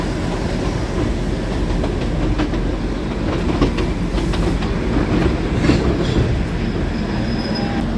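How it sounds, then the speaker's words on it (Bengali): Darjeeling toy train rolls into Darjeeling station, a steady close rumble of wheels on rails with faint clicks and occasional high squeals, no voices over it. "এই টয় ট্রেনটাই আমাদের নিয়ে আসলো, এখানে আমাদের জার্নি শেষ হলো টয় ট্রেনের"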